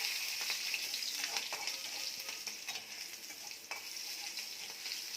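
Cumin seeds, garlic and green chillies frying in hot oil, a steady close sizzle with scattered spatula scrapes and pops and no talk.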